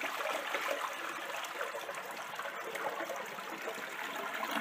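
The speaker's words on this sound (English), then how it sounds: "Now, flush the toilet." Toilet flushing: a steady rush of water pours continuously at moderate, fairly faint level, with no voices.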